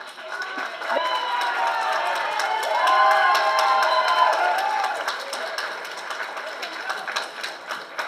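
Audience at a monthly Queens community board meeting breaks into applause with cheers and chatter, a swelling roomful of clapping and voices that peaks midway and then tapers off.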